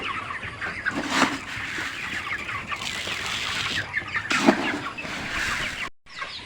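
Chickens on a poultry farm cluck repeatedly at close range, and soft murmurs and fluttering rise from the flock, with no talk.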